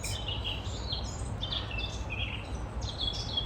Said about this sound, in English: Birds are very noisy,